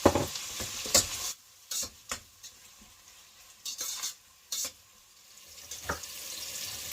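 Tomatoes for biryani sizzle in a pan, with intermittent bursts of frying and scraping stirring strokes breaking up quieter gaps, close and moderately loud.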